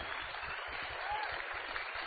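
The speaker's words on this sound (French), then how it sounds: "Donc un grand bravo, je vais les applaudir très fort" Band-limited, fairly quiet applause for festival volunteers at a film festival's opening ceremony, a steady wash of clapping heard at some distance.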